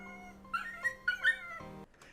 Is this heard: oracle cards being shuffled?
no